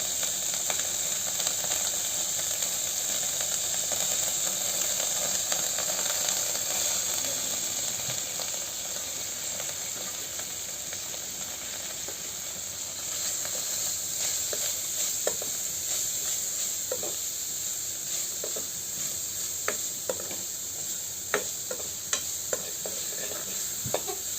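Cut cabbage and green onions sizzle steadily in a hot pan while veg Manchurian is cooked, a continuous frying hiss with light stirring scrapes and taps near the end.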